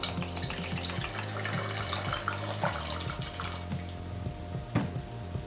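Cocktail ingredients pouring into a dry glass at a home bar, a steady trickling liquid stream running for several seconds with a brief clink near the end.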